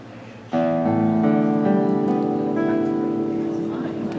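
A guitar rings out a chord on its open strings, strummed once and left to sustain with a few notes added, close and clear with no talking over it.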